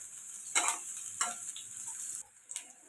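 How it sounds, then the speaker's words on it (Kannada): Onions frying in hot oil in a pan, a soft continuous sizzle broken by a few brief stirring scrapes and clicks, quiet and close with no talking. "ಈಗ ಈರುಳ್ಳಿ ಹಾಕ್ಕೊಂಡು ಚೆನ್ನಾಗಿ ಫ್ರೈ ಮಾಡ್ಕೋಬೇಕು ರೀ"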